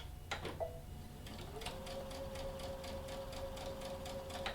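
A sewing machine back-stitches a fabric bunny bag, starting with a few clicks before settling into a fast, even run of needle strokes with a steady motor hum close by.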